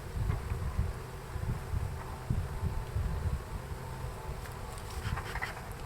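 A large honeybee swarm being caught into a two-box hive, giving a steady low droning buzz that fills the scene continuously, with some faint wind noise and higher insect whine toward the end.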